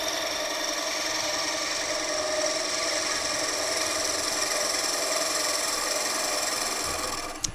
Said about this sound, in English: this hand's trying to keep the chisel at a constant kind of angle along